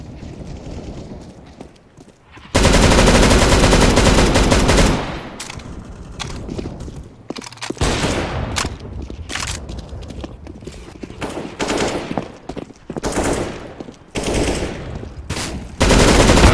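Machine gun fire rattles loud and close in long sustained bursts, then breaks into shorter rapid volleys with brief gaps between them.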